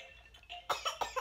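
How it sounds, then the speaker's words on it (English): A young child coughs at mealtime, four short close coughs in quick succession after a quiet stretch. "but you're coughing already."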